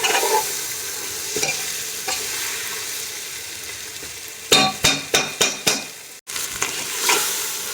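Mutton and onions coated in masala being sautéed in a pan for mutton biryani, with a steady sizzle and spoon stirring, then a quick run of sharp scraping knocks against the pan, with no one talking.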